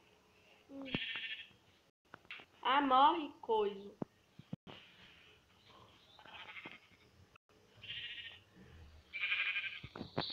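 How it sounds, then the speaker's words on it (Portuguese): A sheep in the Minecraft video game lets out a wavering bleat, with a few shorter bleats, while young people chat over it. "Ovelha!"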